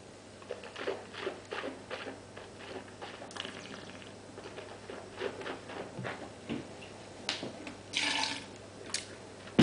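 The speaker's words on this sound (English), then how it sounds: "Let me just pour another bit in here so you can have a look." Earthworks Chardonnay 2008, an Australian white wine, poured into a glass, giving a soft, trickling patter of liquid with small splashy bursts, fairly quiet and close, with no talking.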